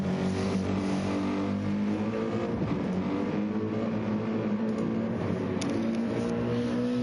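GT3 race cars on Michelin Pilot Sport tyres lap Daytona in a racing video game, a continuous close engine drone with steady high pitch, holding a constant level throughout.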